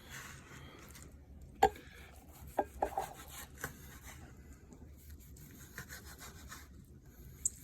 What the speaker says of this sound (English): I'm going to cut it in portions.